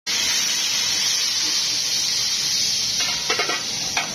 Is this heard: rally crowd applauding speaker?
no